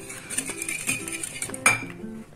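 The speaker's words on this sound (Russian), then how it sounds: "Потом добавляем растопленное сливочное масло и молоко. Перемешиваем." A utensil stirs batter of melted butter and milk in a bowl, scraping and clinking steadily against the sides, close and continuous, with one sharper knock near the end.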